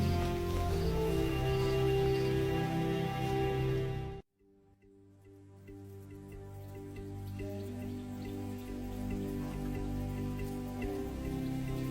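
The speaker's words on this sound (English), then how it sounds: "Playing in the rain," Steady rain patters and drips over a sustained wash, cutting out abruptly for a moment before the downpour swells back in.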